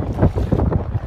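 Strong wind gusting at an outdoor kiteboarding competition, a loud rumbling buffet against the microphone that swells and dips in uneven surges.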